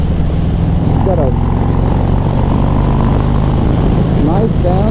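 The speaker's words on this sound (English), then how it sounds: "This Cobra exhaust is pretty good." Harley-Davidson Sport Glide motorcycle with a Stage 1 setup, Cobra exhaust and velocity intake, idling with a steady low rumble throughout, loud and close, with someone talking over it.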